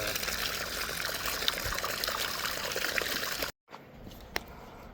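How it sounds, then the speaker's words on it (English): Water gushing from a broken 3-inch water main at a mobile home park, a loud steady rushing wash that cuts off abruptly near the end, leaving quiet background with a faint knock. "there's still a good amount of water coming out."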